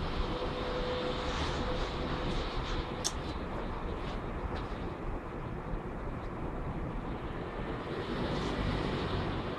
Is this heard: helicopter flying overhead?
yes